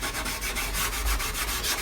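Cloth rubbing varnish cleaner and polish onto a violin's body, a steady close scrubbing swish with short repeated strokes and no talking.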